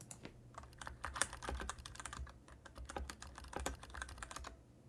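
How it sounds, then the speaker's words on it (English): Clicky computer keyboard typing during a game stream of Nancy Drew: Secrets Can Kill, a steady run of close, crisp key clacks in irregular bursts, with no talking. "Can you hear my clicky clacks? My keyboard click clacks?"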